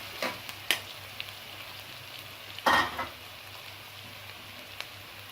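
Garlic and ginger fry quietly in a pan, a soft continuous sizzle broken by a few sharp spoon knocks and one brief louder stir, with no voices.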